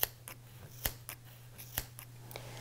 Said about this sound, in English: take your scissors and cut right down